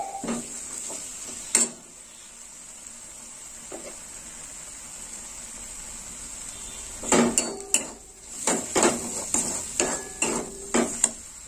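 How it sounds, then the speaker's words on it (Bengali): Ground spices, including chilli powder, are stirred and fried in a pan, with a spoon scraping and knocking against the metal in rapid clusters over a faint steady sizzle. "ভালো করে কষে নেব।"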